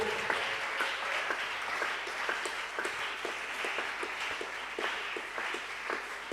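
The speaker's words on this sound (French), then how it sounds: "Acclamons très fort le Seigneur Jésus." A church congregation applauding together, a dense sustained wash of clapping with scattered sharper claps standing out, steady and moderately loud throughout.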